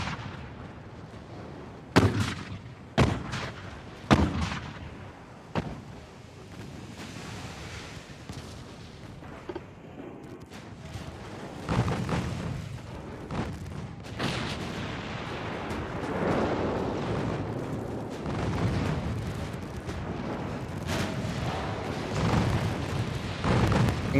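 Naval gunfire from warships in Ultimate Admiral: Dreadnoughts, heavy booming salvos with several distinct loud shots early, then a dense rumbling barrage of continuous cannon fire.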